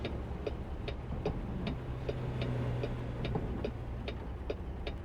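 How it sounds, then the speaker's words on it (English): Modded windshield wipers in American Truck Simulator, a truck video game driven through snow, ticking in a steady regular rhythm over a low engine drone. "The wiper sounds you're hearing are actually from Z-mods."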